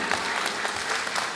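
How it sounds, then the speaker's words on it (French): An audience applauds at a tenth-anniversary event in Dakar, a dense close wash of clapping that holds steady through the whole short moment. "Vos applaudissements, s'il vous plaît."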